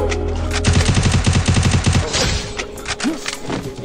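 UMP submachine gun fire in Free Fire: loud, close bursts of rapid shots in a quick rhythmic volley, followed by scattered thuds and game effects.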